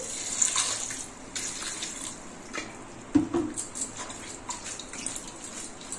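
Cool water runs from a tap over freshly boiled spring pasta, a steady splashing wash with a few sharper drips and squishy knocks, close and moderately loud, with no talking.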